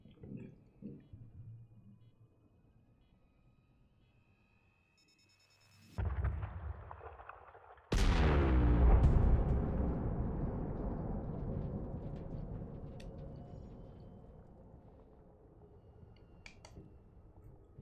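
An asteroid detonates in a mining video game: a sharp blast around the six-second mark, then a second, much heavier boom that rolls into a long, slowly fading rumble. No one speaks.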